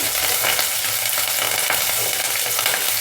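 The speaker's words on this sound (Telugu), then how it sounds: "అందులోనే కరివేపాకు కొద్దిగా ఫ్రై కానిద్దాము" Curry leaves fry in hot oil with chopped green chillies and onion for a fenugreek-leaf dal, giving a steady, close, dense sizzle that holds evenly for the whole stretch with no voices.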